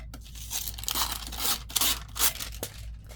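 Paper being trimmed along a metal ruler for a junk journal, giving close, crisp tearing rips in several short bursts over a quiet background.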